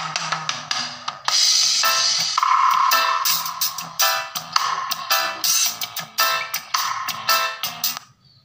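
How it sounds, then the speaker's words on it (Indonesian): Music plays through a car-audio tweeter wired without a passive crossover, sounding thin and tinny with a pronounced midrange and some bass bleeding through, moderately loud with no voice. "kita coba dulu ini suara yang enggak pakai crossover pasif."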